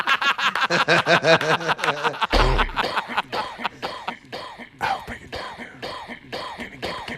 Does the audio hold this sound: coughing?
yes